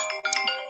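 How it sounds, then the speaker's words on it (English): Phone ringtone from an incoming call, a bright melodic electronic tone pattern with repeated notes, fairly loud and close, with no talking over it. "Look, Tari on the phone."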